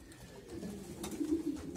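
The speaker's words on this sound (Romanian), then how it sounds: "Acum o să încep să prind porumbeii" Pigeons coo softly in a loft while being caught, with low, repeated rolling calls and some rustling, moderately close, with no talking.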